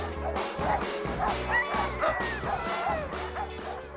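A pack of sled dogs in Lapland barks, yips and whines all together in a dense, continuous, excited chorus, close and loud.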